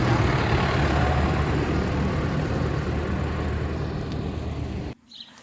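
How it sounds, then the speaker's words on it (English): A tractor's heavy engine rumbles loudly and steadily close by for about five seconds in the Alps, then cuts off abruptly, leaving quiet. "And there goes the tractor."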